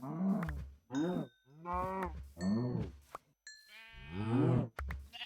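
Sheep in Minecraft 1.8.9 hardcore mode bleat several times in quick succession, clear and fairly close, with short gaps between the calls and no talk.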